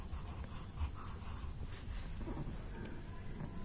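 Pen or pencil writing the word "have" on paper, a soft continuous scratching close by under faint background hiss.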